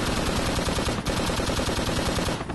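Friendly machine gun fire in a Vietnam-era helicopter combat game, a loud, rapid, steady stream of automatic shots continuing throughout.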